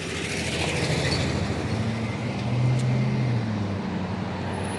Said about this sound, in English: amplifying the sound of the train